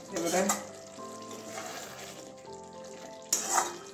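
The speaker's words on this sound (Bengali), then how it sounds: "এটাকে একটু ভালো করে মিশিয়ে নিচ্ছি" Pointed gourd dorma stuffed with paneer sizzling and being stirred in a pan, with scraping bursts at the start and end over continuous frying hiss.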